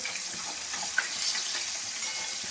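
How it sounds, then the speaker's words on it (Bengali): Steady sizzling of tilapia fish frying in hot oil, a constant crackling hiss with a faint clink partway through. "আর এদিকে আমি এই তেলাপিয়া মাছগুলো ভাজছি"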